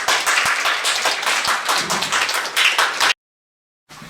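Professors at a self-evaluation seminar on dental education accreditation give about three seconds of dense, lively clapping. The clapping cuts off abruptly into silence, then a brief bit of sound returns at the end.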